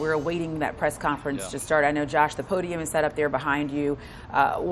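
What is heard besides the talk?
No everyday noise stands out behind the speech.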